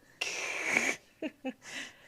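A single sharp sneeze with a drawn-out breathy burst, followed by a couple of short snorting sniffs, close and fairly quiet in an indoor room.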